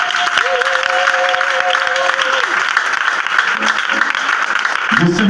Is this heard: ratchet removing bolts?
no